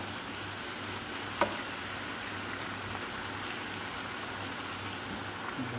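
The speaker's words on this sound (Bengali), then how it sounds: "আমি তেলে ভেজে নিচ্ছি সুন্দর করে, উপরে নিচে লাল করে নিচ্ছি পুরিগুলো" Puris frying in hot oil, a steady, fairly loud broadband sizzle that runs unbroken throughout, with one brief sharp pop partway through and no talking.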